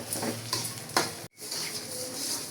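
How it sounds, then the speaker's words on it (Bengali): A spoon stirs and scrapes sugar melting in a pan for an olive pickle, making continuous close scraping with a faint sizzle and occasional clinks against the pan. "চিনিটা আমি এভাবে নেড়ে যাচ্ছি"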